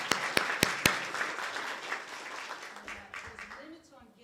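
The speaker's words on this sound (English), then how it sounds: "round of applause, absolutely" A small group at a board of education meeting gives a round of applause, opening with a few sharp, distinct claps that thin and fade as a voice begins talking near the end.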